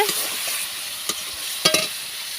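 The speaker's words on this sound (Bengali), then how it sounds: "স্বাদ মতো লবণ লঙ্কার গুঁড়ো হলুদ গুঁড়ো ও একটু জল দিয়ে ভালো করে কষিয়ে নিচ্ছি" Spice paste with tomato, salt, chili powder, turmeric and a little water is stir-fried in a pan, giving a steady close sizzle broken by a few sharp scrapes of a spoon.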